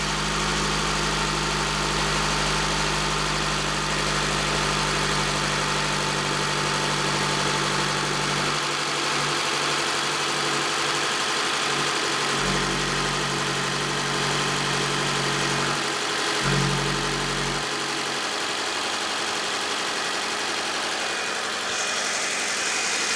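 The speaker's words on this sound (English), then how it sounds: "I mean, the engine sounds pretty good." A Subaru Forester engine with excessive blow-by and oil in the coolant idles, a steady loud hum with a rumbling low end that drops out and returns several times.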